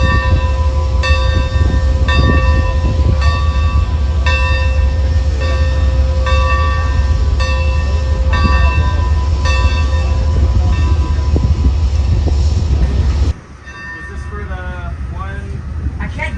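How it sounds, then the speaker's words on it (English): An Amtrak locomotive's bell clangs steadily in a loud, regular rhythm at a rail safety event, ringing close by amid crowd murmur before cutting off abruptly near the end. "is filming Matt ringing the bell from the outside."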